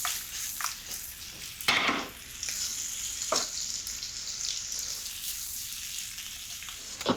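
Mushrooms sizzle in a risotto pan and are tossed a couple of times, each toss a sharp burst of rattling and frying over a steady close sizzle, with no talk.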